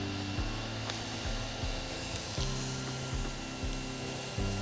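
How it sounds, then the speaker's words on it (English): A hot air welder hums steadily while sealing a self-adhered roof membrane in cold weather. Repeated scraping rubs of a roller or tool over the membrane break in at an even rhythm, and no one speaks. "a hot air welder is recommended for immediate sealing and quicker bonding of the layers"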